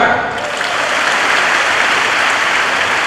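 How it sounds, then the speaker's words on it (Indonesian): Dense, steady applause from a large lecture-hall audience, loud and continuous throughout like a wash of rain, with no break. "Tepuk tangan."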